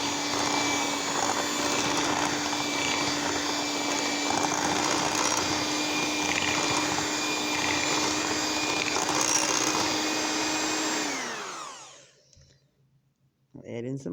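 Electric mixer whirring steadily as flour is mixed into sugar cookie dough, a close, even motor drone that winds down and stops near the end, followed by a brief clatter.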